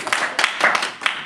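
A few scattered hand claps from an audience after a student introduces themselves in a group setting: four or five quick, uneven claps, close by and brief.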